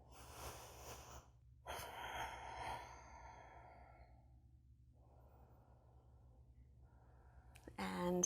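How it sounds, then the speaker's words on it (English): Slow, audible breaths during a vinyasa yoga session, a few long airy inhales and exhales close to the microphone, separated by quiet pauses, with a louder rustle at the very end. "So just take a couple breaths here."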